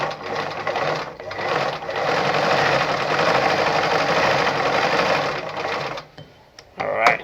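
Brother ZU2-B680 sewing machine running a shortened stitch length, a steady close whirring of the needle mechanism for about six seconds that stops and then briefly starts again at the end, with no talking.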